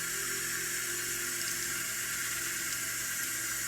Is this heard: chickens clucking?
no